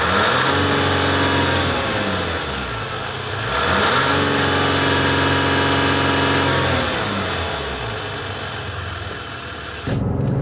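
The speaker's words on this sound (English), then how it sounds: "But the exhaust note, or lack thereof," A 2015 Ford F-150 pickup with the 2.7L engine accelerates, its muted exhaust rising in pitch through the gears in two pulls, then cutting off with an abrupt click near the end.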